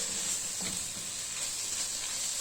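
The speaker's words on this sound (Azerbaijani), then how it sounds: "Kökümüzü belə taxta qaşıqla yavaş qovura" Carrots slowly frying in butter in a pan, stirred with a wooden spoon, giving a steady faint sizzling hiss with no talking.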